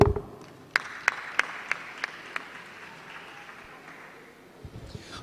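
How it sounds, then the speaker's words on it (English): Audience applause at a conference, opening with a brief burst and then several sharp, spaced claps ringing out over a quieter crowd. The sound fades toward the end, where a little stray noise comes in. "All right, can we clap better?"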